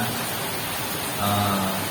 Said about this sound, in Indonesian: kondisi hujan yang sekarang ini tidak membuat kita patah semangat